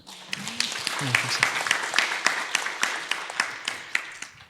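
Church congregation applauding during a Sunday worship service, a dense wash of clapping across the whole stretch, with a voice briefly speaking over the start.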